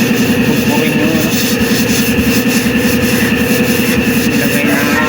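Sandpaper rubs hard against an Isuzu Elf truck body before painting, a loud continuous rhythmic scraping that fills the whole stretch with fast repeated strokes.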